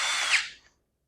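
A power tool briefly spins in the crankshaft main cap bolts on a small-block Chevy V8 engine. The burst is short, high-pitched and close, lasting about half a second before cutting off into silence.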